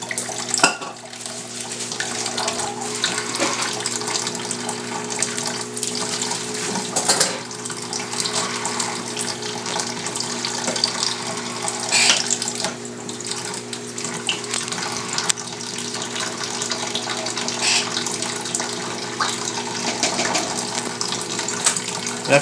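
Shower water runs steadily as a parrot's bath, a continuous hiss and patter under occasional splashes and clatter, moderately close and unbroken throughout.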